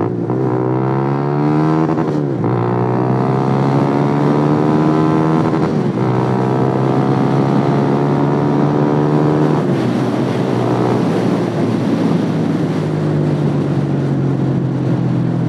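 A Sym VF 185 scooter engine accelerates hard to overtake, its loud, close drone climbing in pitch through two gear shifts, then holding a steady high-revving tone amid wind noise.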